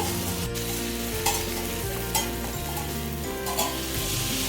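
Sweet paniyaram batter sizzles in sesame oil in a paniyaram pan, a loud, dense, continuous crackle heard up close with a few sharp clicks from the pan, and no voices.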